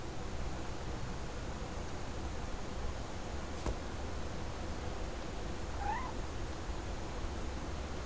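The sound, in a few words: cat meowing in the video game What Remains of Edith Finch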